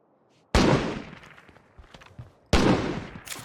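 Pistol gunfire in a zombie-horde video game: two loud, sharp shots about two seconds apart, each ringing out with a decaying tail, with scattered faint game noises between them.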